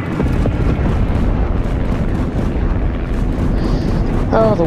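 Anti-air guns fire in a video game, a dense, continuous rumble of booming explosions and bursts packed close together at high volume, with a few brief electronic tones near the end.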